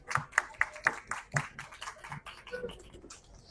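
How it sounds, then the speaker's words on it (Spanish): A small audience at a book fair conference gives a brief scattered round of clapping, a handful of distinct close claps that thin out and fade, with faint murmuring near the end. "Un aplauso, por favor."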